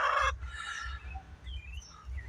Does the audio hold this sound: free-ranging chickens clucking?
yes